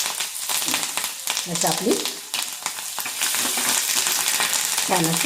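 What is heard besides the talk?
asafoetida and curry leaves sizzling in hot oil tempering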